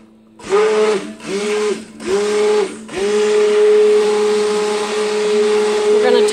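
A stick blender whirs in short pulses, then runs continuously while mixing oils and lye for cold process soap. It gives a loud, close motor whine with a steady pitch and a brief dip between each of the first few bursts.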